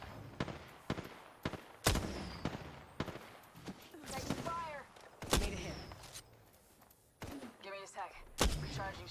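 Gunfire in a battle royale video game, sharp shots cracking out one at a time at irregular intervals, with game voice lines and other effects sounding between them.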